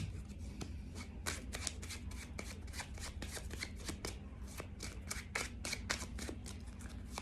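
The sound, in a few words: shuffling tarot cards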